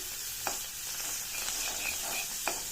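Coriander leaves fry with salt in a pan, making a soft, even sizzle broken by a few light scraping taps as they are stirred, with no voices.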